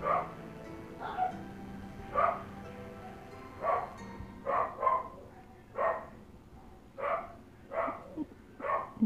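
Dogs bark repeatedly in the background of the Toram Online game, with short, evenly spaced yips and woofs at moderate volume. A low steady hum runs beneath them.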